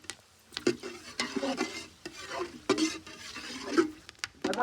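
Whole cinnamon, cloves and cardamom frying in a pan for gongura chicken curry, with light sizzling and repeated spoon stirring scrapes in an irregular rhythm, close and fairly quiet.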